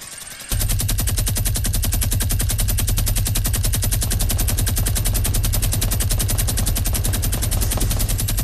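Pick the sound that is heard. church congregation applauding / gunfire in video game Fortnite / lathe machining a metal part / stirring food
gunfire in video game Fortnite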